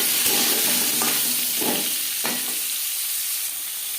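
Papaya pieces dropped into hot oil with black mustard seeds and a dried red chilli, a bright close sizzle with a few stirring scrapes, easing slightly toward the end, no voices.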